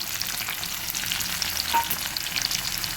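Bay leaf with whole garam masala of cinnamon, cardamom and cloves sizzling in hot oil for a potato and country chicken curry, a steady close crackling fry with faint stirring.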